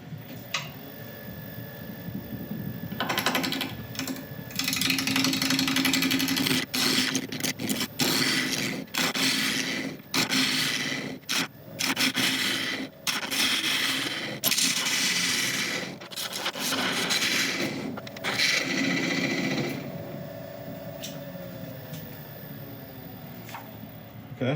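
A wood lathe turning a wood and resin blank at about 660 RPM while a tool flattens the face, with loud, continuous scraping and rasping broken by short gaps, close up.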